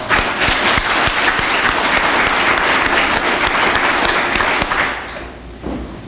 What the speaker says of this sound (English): I just want to give a round of applause to all of our sponsors